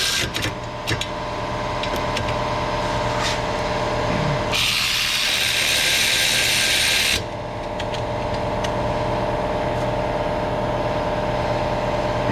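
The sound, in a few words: tools reinstalling Ford Fiesta brake caliper mounting bracket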